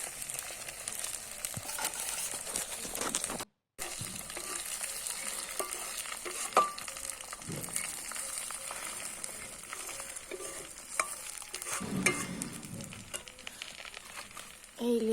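Onion and fenugreek seeds fry in oil for homemade hair oil, giving a steady close sizzle with scraping stirs and a brief dropout, one sharper clatter near the end.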